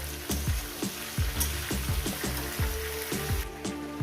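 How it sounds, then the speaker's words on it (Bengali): Ridge gourd and eggplant sizzle steadily in hot oil with a katla fish head, with rhythmic stirring scrapes every half second or so and no talk. "ঝিঙে বেগুন দিয়ে দিলাম এবার এটাকে আরও পাঁচ ছ মিনিট ধরে ভাজবো"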